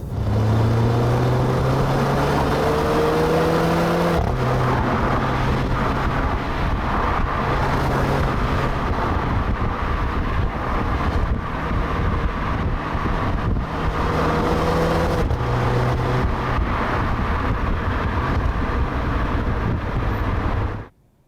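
A Renault Clio RS200 EDC drives in sport mode, its engine droning steadily under loud road and wind noise, with quick gear changes showing as brief dips and rising pitch sweeps throughout.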